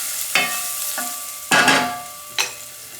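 Ginger frying in a hot pan while being stirred, a steady sizzle broken by four scraping strokes of the utensil spread across the clip, close and fairly loud with no voices.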